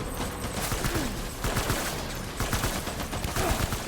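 Dense bursts of automatic gunfire from the video game Death Stranding, with rapid overlapping shots rattling continuously at steady loudness for several seconds, no talking.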